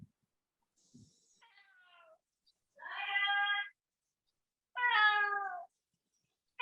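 Cat meowing in answer to another cat, with a faint rustle and a thin cry first, then two loud, drawn-out, close meows with a pause between.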